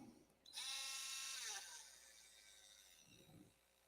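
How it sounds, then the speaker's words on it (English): Hordell Mini cordless rotary tool, a low-torque, low-RPM handheld unit, spins up with a close whine of several seconds that winds down and fades, with brief faint handling noise afterward. "The Hordell Mini cordless rotary tool"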